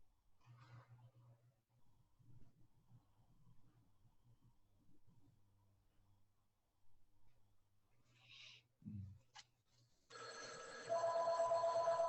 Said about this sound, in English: Oh, there's a phone call.